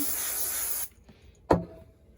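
Temporary spray adhesive sprayed from a can for a quilted Christmas table runner, a loud, close, steady hiss that cuts off, followed by a brief sharp puff of spray and a quiet tail.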